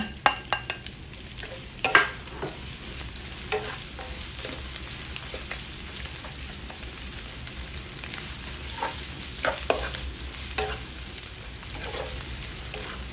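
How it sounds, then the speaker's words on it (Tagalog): Garlic and onion hitting hot oil in a pan, a steady soft sizzle with occasional scraping stir strokes, close but fairly quiet, no voices. "Ngayon, lagay na natin yung ating bawang sibuyas."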